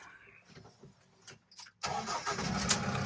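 SUV engine, a Mahindra Thar or Jeep Wrangler, cranks briefly and then catches, settling into a loud, steady idle after a few quiet clicks and cabin noises.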